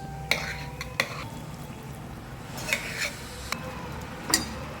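A spoon stirs crushed boiled pigeon peas into a tomato masala for Jain tuver totha made without onion or garlic. A few sharp clinks and scrapes against the pan stand out over a quiet, steady background, with no talking.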